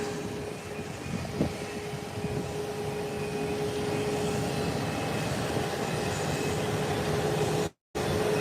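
A small private Cessna Citation jet at an airport gives off a loud, steady engine roar with a thin whining tone held throughout, briefly cutting out near the end.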